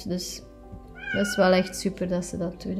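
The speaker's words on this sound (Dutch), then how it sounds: "Sorry voor mijn kat op de achtergrond." Domestic cat meowing in the background, several drawn-out meows, moderately loud, mixed in with someone talking in Dutch over it.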